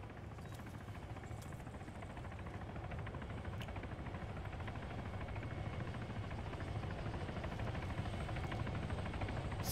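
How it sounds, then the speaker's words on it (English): A video-game helicopter in Arma 3 drones on with a steady rotor thrum, even and unbroken throughout, a low pulsing whir at moderate distance. "Every time I hear helicopters, I get nervous."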